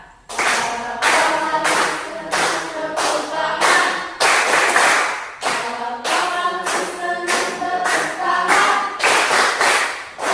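Children clap in rhythmic bursts along to a sing-along song in a classroom, regular groups of claps with brief pauses between, close and lively.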